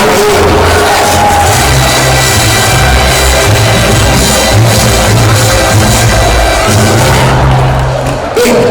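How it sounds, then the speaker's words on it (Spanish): A school audience cheers and applauds class 3C at a secondary-school carnival (Entroido) prize ceremony, a loud, dense and continuous crowd roar that barely varies from start to finish. "ese aplauso para el tercero C"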